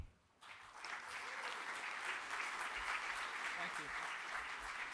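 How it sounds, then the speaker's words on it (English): Conference audience at the DLD09 event breaks into applause after a short quiet start, a broad, steady wash of clapping from a large room that continues evenly and fairly faintly to the end. "So please clap your hands for Gordon Wagener."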